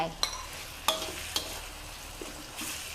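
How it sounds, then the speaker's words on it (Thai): Curry paste and pickled bamboo shoots are stir-fried in a pan, with a few sharp scrapes of a spatula over a soft, steady sizzle and no talking. "ผัดค่ะ"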